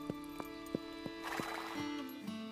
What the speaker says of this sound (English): I think that's Bella. Colt's horse